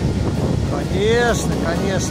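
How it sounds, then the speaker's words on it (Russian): Cold winter wind at the sea rushes and buffets the microphone in a steady low roar while a person speaks briefly over it. "Тут ветер и холодище."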